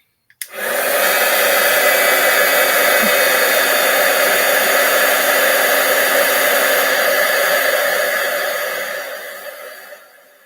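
Heat gun heating embossing powder on a card, a loud steady blowing whoosh that starts abruptly after a click, holds for about nine seconds, then fades and cuts off, close up and alone.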